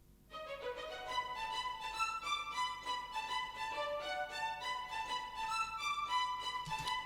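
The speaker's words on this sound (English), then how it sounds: "this is the Cinematic Studio strings on its own." Cinematic Studio Strings sample library heard on its own: a sustained string ensemble swelling in after a soft start, warm and full-bodied with gently shifting chords, steady and unaccompanied, no speech.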